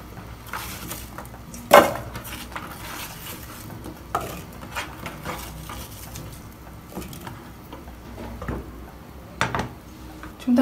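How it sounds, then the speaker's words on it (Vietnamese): Ingredients drop into a cooking pot in the kitchen, giving a few close clunks and light clattering knocks, with one louder bump near the start and softer rattles after. "Các bạn hãy chuẩn bị một cái nồi và cho tất cả vào."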